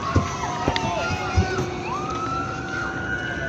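A fire truck siren wails at a large residential fire in Bacoor, Cavite, its rising and falling tone sustained over a noisy crowd and scattered thumps, with people talking nearby.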